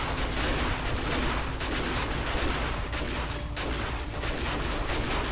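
Rapid, dense energy-weapon fire from a laser turret in the survival game 7 Days To Die, a sustained loud barrage that runs unbroken the whole time with no voices.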